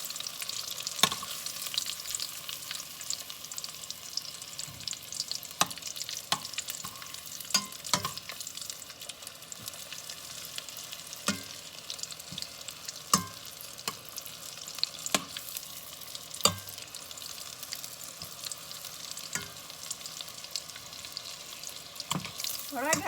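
Onion rings frying in oil give a steady, faint crackling sizzle, with scattered sharp pops and occasional clinks of utensils nearby.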